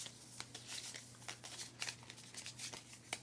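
A deck of Exoterra game cards is shuffled by hand close by, giving soft, quiet bursts of riffling and flicking that come in an uneven rhythm.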